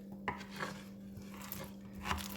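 A knife chopping candied yellow pineapple on a cutting board in a home kitchen, giving a few spaced, soft clicking cuts over a steady low electrical hum.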